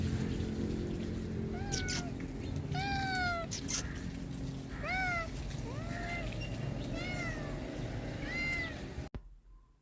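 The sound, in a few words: cat meowing outdoors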